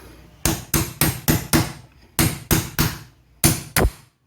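A hammer drives an idler pulley part into place on a Toyota D4D engine, with ten loud, sharp metallic blows close by in bursts of five, three and two.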